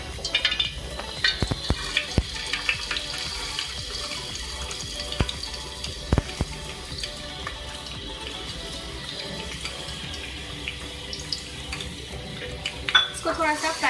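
Chopped onions frying in a generous pour of oil, a steady crackling sizzle that carries throughout, broken by occasional sharp clicks and scrapes of a utensil against the pan.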